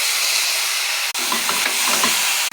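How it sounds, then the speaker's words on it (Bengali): Soaked lentils tipped into a pan where Malabar spinach stems fry with spices and a pinch of ginger: a loud, steady, close sizzling hiss runs throughout, broken by one brief cut, with soft stirring knocks in the second half and no talk. "আগে ভিজিয়ে রেখেছিলাম ডালটাও আমি এখন দিয়ে দিচ্ছি।"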